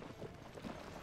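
Horse hooves clip-clopping as the horse struggles uphill in Zelda: Tears of the Kingdom, faint soft steady footfalls blended into quiet game ambience.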